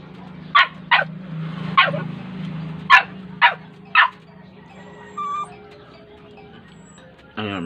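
A dog barks about six sharp times in irregular bursts, fairly close and loud, over a low steady hum, followed by quieter indistinct sounds.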